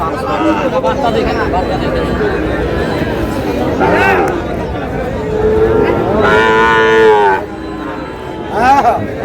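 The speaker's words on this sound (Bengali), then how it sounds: "শাহিওয়ালের ষাঁড়" Young Sahiwal bull calves moo repeatedly, several drawn-out calls at close range, with people chattering in the background.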